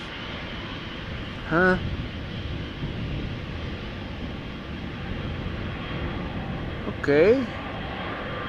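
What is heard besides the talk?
easyJet airliner crossing the runway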